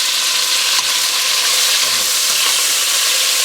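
Pork for a tomatillo stew sears in a hot pot in batches, giving a loud, steady sizzle and crackle of browning meat that stays close and unbroken throughout.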